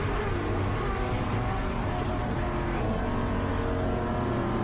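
Improved production race cars, a Subaru and a Nissan 350Z, run on track, producing a steady, loud engine roar with a broad, sustained drone and no speech.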